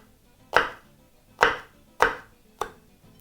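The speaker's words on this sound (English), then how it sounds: "proceed to chop that very finely" Knife chopping vegetables finely for Kenyan vegetable githeri, four crisp, close chops landing at a slow, fairly even pace on a board, with quiet in between.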